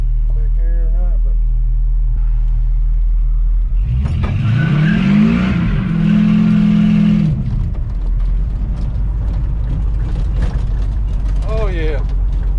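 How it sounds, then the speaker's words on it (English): A Chevrolet C10 pickup truck idles with a deep rumble, then revs hard for a few seconds during a burnout attempt before settling back to idle, with a voice speaking briefly at the start and end. "see if we can get a little burnout"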